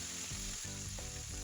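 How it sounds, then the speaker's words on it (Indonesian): Chicken pieces frying in hot reused oil, a loud steady sizzle and crackle with soft thumps of stirring, no voices. "Dengan minyak yang sama, ini masih panas, tentu saja ini saya menggoreng untuk ayamnya."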